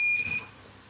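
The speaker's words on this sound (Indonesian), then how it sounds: "Untuk konti ini kita buat ngecek dengan suara. Suara bip bip." Short continuity test beep from an analog multimeter, a brief high electronic tone lasting under half a second, close and clear with no talk.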